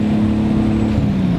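A turbocharged Nissan 240SX engine hums steadily at moderate revs in third gear, a constant low drone with no change in pitch, close and fairly loud.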